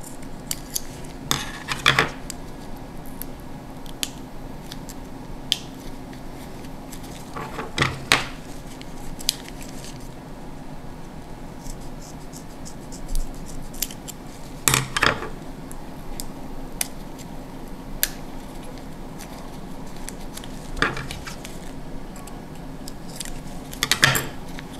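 A LiPo battery pack is cut open with a tool. Sharp metallic snips and crunches come in small clusters every few seconds over a quiet, steady background.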